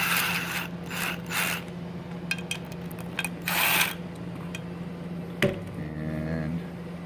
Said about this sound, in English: So I'm going to start the screws.